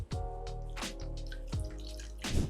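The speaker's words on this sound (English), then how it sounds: "we will weigh out our water paste, starting with distilled water" Distilled water poured into a container on a scale while making body butter, heard as a few close, short splashing drips and trickles at a quiet level, with no voices.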